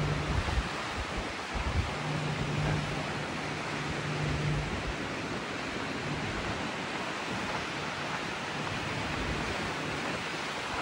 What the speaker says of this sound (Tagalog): Ito yung side ng boat, yung lalakas ng alon.